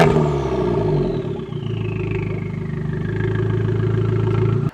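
An Abarth 595 Essesse fitted with an Akrapovic exhaust runs nearby, a continuous raspy engine note that revs and settles before cutting off abruptly.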